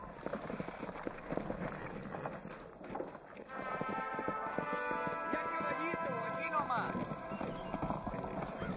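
Steady hoof clip-clops from a horse in Red Dead Redemption gameplay mixed with busy game sounds and people talking over them; a musical tone swells in partway through.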